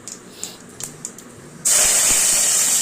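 Mustard seeds, urad dal and fenugreek hit hot oil in a pan, setting off a sudden loud, steady sizzle after a few faint clicks and taps.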